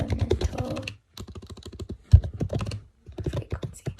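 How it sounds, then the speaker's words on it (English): Close-up typing on a computer keyboard comes in quick clicking bursts separated by brief pauses, alone without any voice. "So I'll go ahead and type that."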